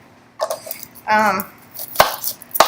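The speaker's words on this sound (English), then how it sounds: "Do my onion. Chop both sides." A knife chops an onion on a board, with a few sharp close chops and a brief spoken phrase between them.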